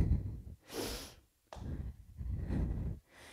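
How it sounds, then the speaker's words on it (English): Heavy breathing right up close to a microphone during a bodyweight workout, several loud rough inhales and exhales in a slow uneven rhythm, with brief quiet gaps. "You can hear me breathing in the mic."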